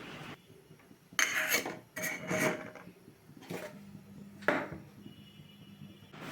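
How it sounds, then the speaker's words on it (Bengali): A metal tiffin box is set on a stand inside a wok in a home kitchen, giving a few quiet, close clanks and scrapes between stretches of near silence. "স্ট্যান্ডের ওপরে টিফিন বক্সটা আমি বসিয়ে দিচ্ছি"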